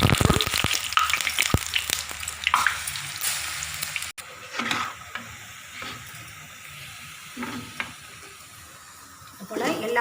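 Lentil batter vadas hiss and sizzle in hot oil, bubbling steadily with occasional stirring and clinks from a utensil, loud at first and then settling into a quieter crackle.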